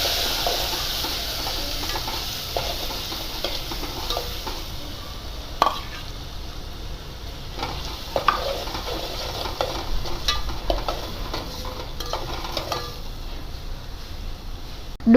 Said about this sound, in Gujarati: ત્યાર પછી આ વાટેલું લસણ છે અને ત્યાર પછી આ જે ડુંગળી આપણે ચોપ કરેલી હતી એ ઉમેરીશું.